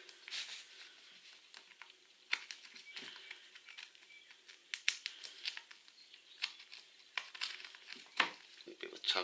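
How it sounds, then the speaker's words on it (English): Small scissors snip grey cotton thread during back padding work, giving quiet, sharp clicks and crinkly rustles scattered through the stretch at close range. "I'm always just going to go and cut the cotton, nothing else"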